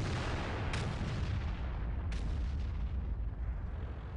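A World of Tanks tank gun booms twice with heavy low rumbling blasts amid a constant deep engine drone, no talk heard.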